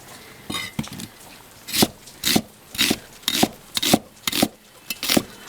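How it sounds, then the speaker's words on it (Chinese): Onion is chopped with a knife on a wooden cutting board, about a dozen crisp, evenly spaced chops that start slowly and settle into a steady rhythm, with no talking. "咱先切一下洋葱，洋葱直接切这样"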